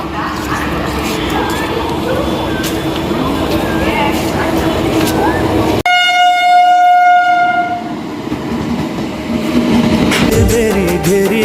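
A train pulls in with a long, loud horn blast in the middle, surrounded by rumbling and clattering wheels. Voices and crowd noise carry on underneath.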